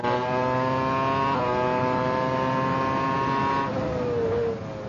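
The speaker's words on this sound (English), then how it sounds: "now we've got incredible acceleration" A 1999 Formula One car at Silverstone pulls hard out of the narrow pit-lane exit, its engine screaming up through high revs with two quick gear changes. The sound is loud, close and continuous, with no voices.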